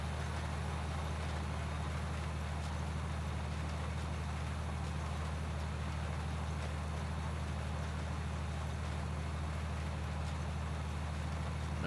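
Perkins 8.9-liter eight-cylinder diesel tractor engine in Farming Simulator 19, a steady, unbroken low drone at moderate level that runs throughout without talk.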